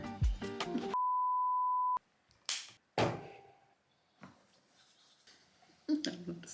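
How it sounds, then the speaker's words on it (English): A phone rings with one steady electronic tone lasting about a second in a home art studio where pennants are being made, loud and alone between bursts of talk and handling noises. "Phone's ringing."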